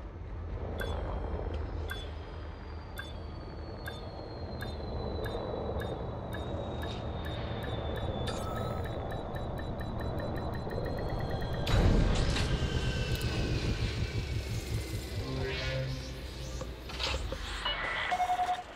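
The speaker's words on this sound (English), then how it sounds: "the engines are awesome. They're all a little bit different too, so they're not all exactly the same sound" Spaceship engines in the Elite Dangerous video game give a steady, loud hum and whine under repeated electronic beeps and tones, with a low rumbling surge partway through and no speech.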